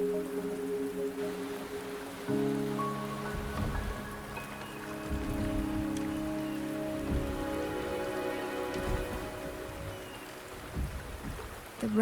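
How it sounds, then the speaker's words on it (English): Rain falling in the video game Wuthering Waves, a steady soft wash that holds all the way through under a layer of sustained musical tones and low swells, with no voices. "The rain is subsiding, and the sky will soon clear."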